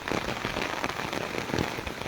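Heavy downpour in Taunsa Sharif pelts hard surfaces in a dense, constant hiss with irregular louder splatters, close and unbroken, with no one speaking.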